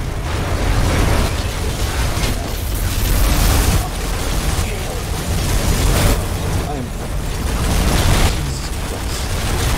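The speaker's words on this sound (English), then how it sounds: "massive explosion detected by Hannibal 3 spy satellite" A massive explosion in the shooter game F.E.A.R., a dense, loud rumbling blast that rolls in repeated surging waves for several seconds.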